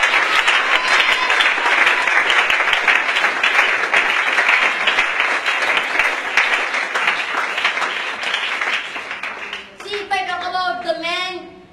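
Dense, loud audience applause fills a classroom event at an English language institute, sustained for about ten seconds before fading, then a voice starts speaking as the clapping dies away.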